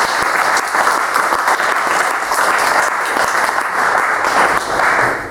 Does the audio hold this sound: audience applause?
yes